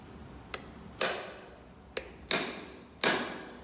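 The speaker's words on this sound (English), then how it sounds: "Couple good taps and it's going to be in there." A wooden lathe spur center is tapped into a wood workpiece with sharp knocks in pairs, a light tick followed by a heavier strike, three strikes in all, close and clear in a quiet room.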